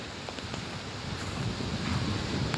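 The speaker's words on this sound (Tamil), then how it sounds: "காற்று நல்லா ஜில்லுன்னு அடிக்குது." Cool wind blows steadily outdoors during a family trip in Tamil Nadu, a continuous rushing noise that swells slightly toward the end, with no other clear sounds.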